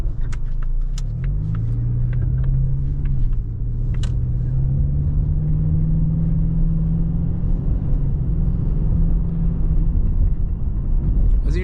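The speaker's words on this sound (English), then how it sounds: "the sound from the 4-cylinder is definitely not as smooth as the 5-liter V8" A 2025 Ford Mustang EcoBoost Premium Convertible's four-cylinder engine drones loud and close while driving. The steady low rumble slowly rises in pitch as it accelerates, with no talking.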